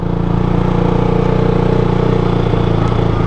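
A motorcycle engine runs steadily in first gear, a loud, even, close-up drone with a constant low throb and no talking.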